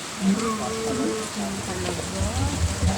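Steady rain patter fills the background while a person talks over it, with a low hiss of falling water throughout.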